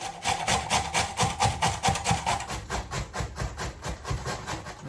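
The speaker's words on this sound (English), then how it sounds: "I'm now going to grate the potato" Raw potato grated by hand for a spicy pumpkin pastryless quiche: steady rhythmic rasping strokes, roughly three per second, close and continuous with no talk.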